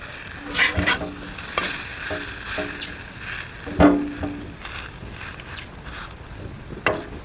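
A ragi dosa sizzles on a hot pan just after being flipped, a continuous crackling fry broken by several sharp spatula scrapes and taps, close by.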